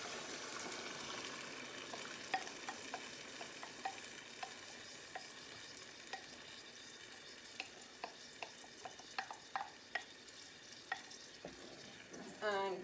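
Tomato sauce stirred in a pan for a pizza-style enchilada sauce, with soft scattered scrapes and clicks of the spoon over a quiet simmering hiss, growing more frequent toward the end.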